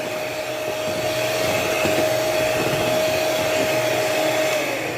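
An electric mixer whipping a mango ice cream mixture with mango crush and cream, a loud, continuous close motor whine with a steady pitch running throughout, no speech.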